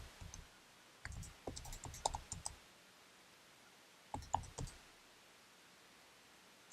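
Calculator buttons being pressed while working a sine inverse calculation, giving two short bursts of quick, faint clicks separated by a quiet pause.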